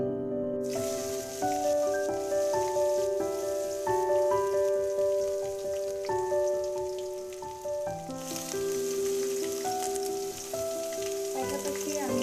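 Chopped onions fry in a pan for lentil curry, a steady sizzle running beneath loud melodic background music for the whole stretch.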